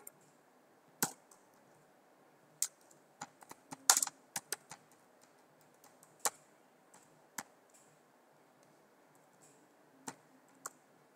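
Scattered keystrokes on a computer keyboard while Python array code is typed, sharp close clicks arriving in irregular short bursts with pauses between them, no voice over them.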